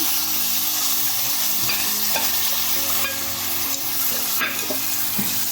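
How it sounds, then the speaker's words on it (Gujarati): Masala tomato puree hits a hot pan and is sautéed, a loud continuous sizzle with light stirring clicks throughout. "હવે આપણે આ ટમેટાની જે પ્યુરી મસાલાવાળી પ્યુરી છે એ પ્યુરીને એડ કરશું"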